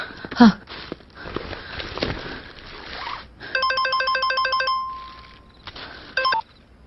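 A phone ringing in a tense indoor scene, a bright electronic ringtone pattern repeating for about a second and a half, with footsteps, small clinks and rustling before and a short tone near the end.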